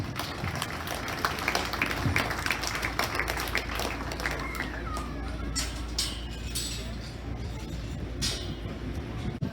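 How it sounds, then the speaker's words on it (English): Dense, steady applause rings out in an open arena for five exhibitors at a county fair beef show, many hands clapping continuously for several seconds with a low hum of livestock-barn ambience beneath. "Let's give all 5 of these exhibitors a big round of applause."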